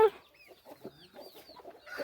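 A hen settling to lay eggs clucks softly in short, irregular bursts close by, with a few higher squawking notes mixed in, against a quiet background.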